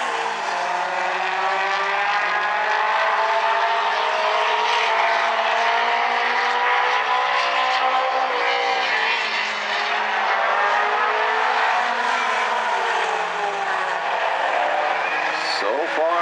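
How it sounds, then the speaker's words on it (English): Outlaw Compact race cars roar steadily around the South Sound Speedway oval during an A-main, engine drone loud and continuous with a commentator talking over it throughout. "But Nat Barber, that car is turning very well."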